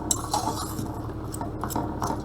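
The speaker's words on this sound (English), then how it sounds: "make sure that you give your couscous a good stir so that everything is covered" Couscous being stirred in a pot with vegetables, a utensil scraping and clinking against the metal in a steady, close run of soft scuffs and light taps.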